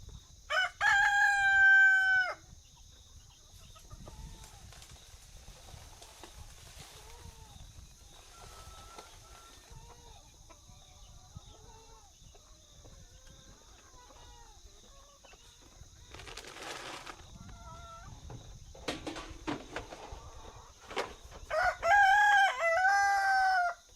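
Laying hens cluck steadily through the recording while a rooster crows loudly at the start and again near the end, with a constant faint background hum and occasional wing flaps.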